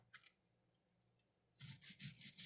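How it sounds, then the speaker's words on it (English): A kitchen knife slices the end off an onion on a cutting board, a close, crisp crunching and scraping burst arriving after a quieter stretch of faint rubbing. "First, cut this end of your onion off."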